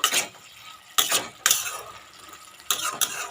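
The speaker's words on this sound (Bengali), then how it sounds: "ধনে পাতা দিয়ে হালকা হালকাভাবে নাড়াচাড়া করে দেবো" A spoon stirring a small-fish curry after coriander leaves go in, giving a few sharp scraping clinks against the pan spaced over a quiet background, with no talking.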